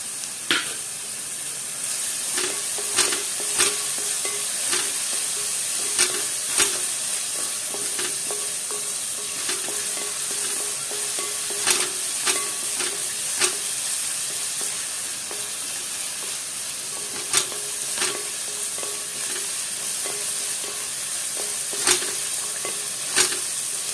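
Sliced onions fry in hot oil with cloves, cardamom and cinnamon for chicken rice, a steady close sizzle punctuated by regular scraping and stirring clicks, with no talk.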